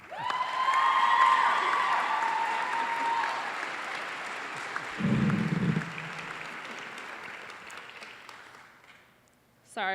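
An audience at a college of health professions white coat ceremony applauds: a dense burst of clapping that slowly fades over several seconds. Brief cheering or voices rise in the middle, and a voice speaks as the clapping dies out.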